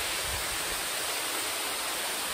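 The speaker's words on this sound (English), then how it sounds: "how often do you get to ride through a tunnel that's got a waterfall right next to it?" Waterfall beside a road tunnel in Glacier National Park, a steady loud broadband rush of falling water, continuous and close with no breaks.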